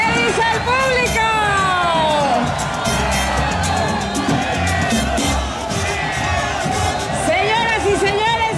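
Spectators at the 2009 Coatzacoalcos carnival parade cheer and whoop as floats and troupes pass, a loud, sustained roar of crowd noise with shrill shouts and whistles rising throughout.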